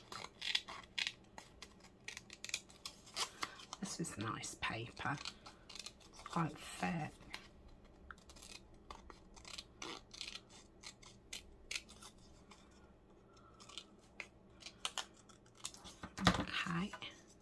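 Scissors snip through thick paper while trimming pieces for a junk journal, a run of crisp close cuts in uneven bursts, with someone speaking quietly over them.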